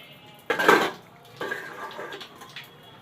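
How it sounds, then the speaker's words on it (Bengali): A metal lid clanks down onto a cooking pot of thin koi fish curry, one sharp clatter followed by a second lighter rattle as it settles, close by in a quiet kitchen. "ঢাকা দিয়ে দিলাম।"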